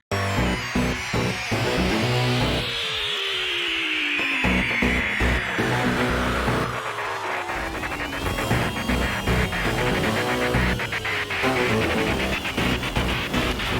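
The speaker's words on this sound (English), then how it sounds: "there's all kinds of super distorted sounds, video game chip noises" Dense, harsh electronic noise with glitchy chiptune bleeps, sweeping pitches and distorted buzzing, loud and continuous throughout.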